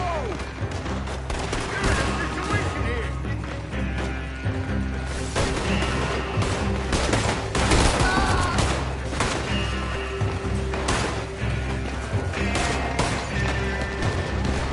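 Gunfire rages through a Red Dead Redemption 2 shootout, with dense, loud, overlapping shots, crashes and booms running continuously for the whole stretch. Voices shout intermittently in the mix.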